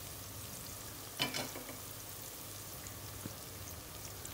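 Chopped green chillies drop into a hot pan for a sweet mango curry, giving a steady low sizzle throughout, with a brief louder crackle and spatter as they hit the oil.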